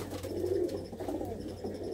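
Pigeons kept by a Punjabi fancier give low, continuous cooing up close, a steady murmur running through the whole stretch with no talk over it.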